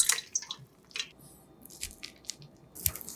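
Blanched chives are wrung out by hand, giving soft, close squishes and light drips of water in a quiet kitchen, with small irregular bursts.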